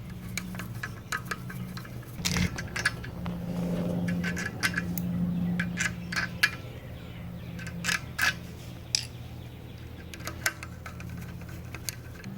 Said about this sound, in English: I'm just tightening these down to a comfortable tight.